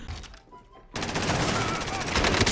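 Rapid automatic gunfire in the video game Warzone breaks in loudly after a quieter opening second, then keeps up as a dense, sustained burst of shots.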